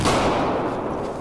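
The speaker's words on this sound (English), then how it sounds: "Shooting with a sniper rifle." A loud sniper rifle shot in Battlefield 4 fills the short clip, a single heavy, booming report with a long rumbling decay and no voices.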